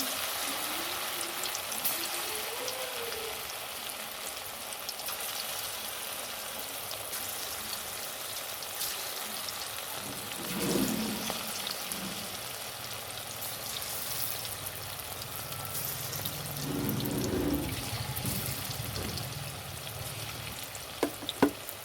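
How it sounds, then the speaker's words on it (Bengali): Chicken pakoras slipped one at a time into hot oil, giving a steady soft sizzle and crackle with a few brief bubbling swells, continuous and fairly close. "এবারে আমি তেলেতে একটা একটা করে ছেড়ে দেবো চিকেন পকোড়াগুলো।"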